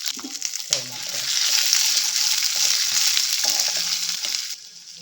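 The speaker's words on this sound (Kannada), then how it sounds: "ಬೆಳ್ಳುಳ್ಳಿ, ಶುಂಠಿ, ಹಸಿಮೆಣಸಿನ್ಕಾಯಿ, ಜೀರಿಗೆ, ಸೋಂಪು ತಗೊಂಡಿದ್ದಲ್ಲ ಅದು ಕೂಡ ಹಾಕ್ಕೊಂಡು ಫ್ರೈ ಮಾಡ್ಕೊಳ್ತೀನಿ." Garlic, ginger, green chilli, cumin and fennel frying in oil for hotel-style tomato bath, a loud steady close sizzle swelling after a clatter and then dropping away, with some stirring knocks.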